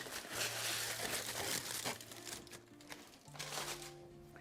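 Aluminium foil crinkled and crumpled by hand on a cheese board, a series of close, crackly rustles that taper off and then return briefly.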